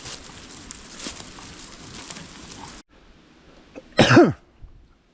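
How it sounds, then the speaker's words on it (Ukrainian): A single deliberate cough from a person hiking through a forest while mushroom hunting on a windy day, sharp and close after several seconds of steady breezy rustle and a quiet pause. "Я так періодично навмисно прокашлюсь."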